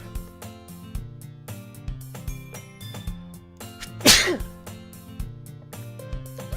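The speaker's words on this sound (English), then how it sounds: "That was a shy sneeze." A single sneeze bursts out midway through, loud and sharp against soft background music.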